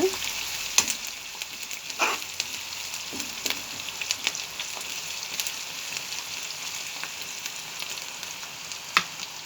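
Ingredients for chickpea usli roast in a pan with a soft, steady sizzle, broken by occasional sharp scraping clicks as they are stirred.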